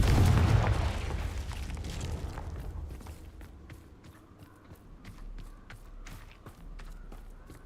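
A Confringo blasting spell goes off in Hogwarts Legacy, opening with a heavy, close boom that rumbles away. Sharp light clicks and footstep-like taps follow over a quiet background.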